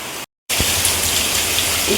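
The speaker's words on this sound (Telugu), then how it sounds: "లాస్ట్ టైం కంటే ఎక్కువ వర్షం పడుతుంది" Heavy rain pours down in a steady, dense hiss, broken by a brief moment of silence near the start before the downpour resumes at full strength.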